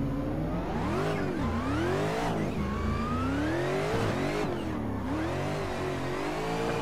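An Austin Meeks ATSV Pro FD drift car in a racing video game revs hard and continuously, the engine pitch rising and dropping sharply with each clutch kick and shift, loud and close.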